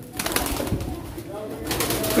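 A pied female pigeon coos at a pigeon auction, with low, soft cooing and fluttery bird sounds close by, mixed with crowd chatter and voices throughout.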